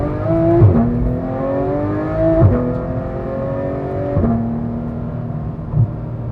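A Porsche 991 GT3 fitted with a Dundon Motorsport exhaust and headers revs hard through repeated rising sweeps, each ending in a sharp shift, loud and close with no talking.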